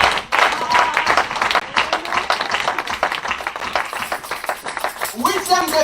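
A congregation claps and cheers together in acclaim of Jesus during a church service, dense rhythmic clapping that fills the space and continues throughout, with voices rising near the end.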